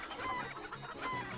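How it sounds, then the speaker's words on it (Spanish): Soft clucking from chickens in the PlayStation game Breath of Fire IV, a short, quiet burst of game-sound fowl calls with no one talking. "Vale, ya hemos metido 7 gallinas."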